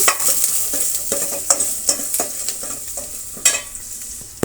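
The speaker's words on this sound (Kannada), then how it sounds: "ಅದರ ಜೊತೆಗೆ ಸ್ವಲ್ಪ ಕರಿಬೇವಿನ ಸೊಪ್ಪನ್ನು ಆ್ಯಡ್ ಮಾಡ್ತಾ ಇದ್ದೀನಿ. ಇಷ್ಟನ್ನು ನಾವು ಫ್ರೈ ಮಾಡ್ಕೊಳ್ಳೋಣ." Finely chopped onions and curry leaves fry in a pan for an okra masala dish, a loud close sizzle punctuated by repeated scraping strokes of stirring, with no one speaking.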